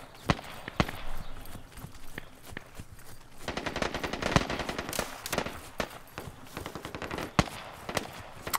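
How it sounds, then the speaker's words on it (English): Distant and near gunfire pops across a battlefield in the military video game Squad, with sharp single shots and rattling automatic bursts spread irregularly over several seconds, fairly faint overall with occasional louder cracks. "I'm already taking fire."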